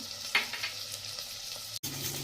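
Whole garlic cloves dropped into a hot pan for pav bhaji in a pressure cooker, sizzling loudly and steadily up close with a brief stirring clatter and a short break near the end, no talking.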